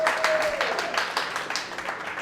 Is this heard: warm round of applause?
yes